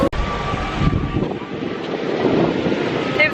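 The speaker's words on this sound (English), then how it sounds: "It's very windy." Strong wind buffets the microphone outdoors on a busy London street, a steady low rumble that swells and eases over a faint background murmur of the crowd.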